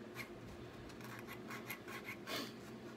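Sandpaper rubs against a wooden turkey pot call in quick, raspy back-and-forth strokes, a soft close scratching that repeats steadily with brief pauses.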